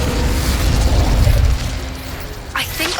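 Incendio fire spell cast in the Hogwarts Legacy video game, a loud rumbling burst that roars for about a second and a half, then fades under a low mechanical hum with a couple of sharp crackles near the end.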